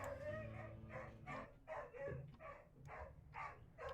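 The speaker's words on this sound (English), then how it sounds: "Sorry about the dog." A dog barks and yips repeatedly in a game scene, a run of moderately loud, evenly spaced barks with whimpering tones, close by.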